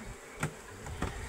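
Honey bees buzzing faintly around a bee box set in a field of black cumin flowers, a soft steady hum with two brief louder passes as bees fly close.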